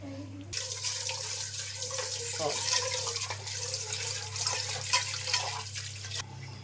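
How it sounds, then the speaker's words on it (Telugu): Water splashes and trickles in a basin as toor dal is swished and rinsed by hand, with a steady low hum in the background. "ఇవి కడిగి శుభ్రంగా మంచినీళ్ళు పోసుకుందాం"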